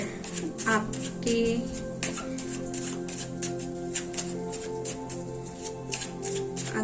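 Tarot cards being shuffled up close, a quick run of soft riffling and flicking bursts in steady succession over faint background music, with no one speaking.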